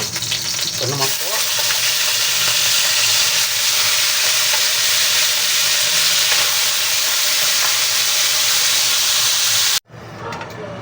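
Chicken pieces for chicken pochero fry in hot oil with a loud, steady sizzle and hiss that fills nearly the whole stretch, with occasional stirring, then cut off abruptly near the end.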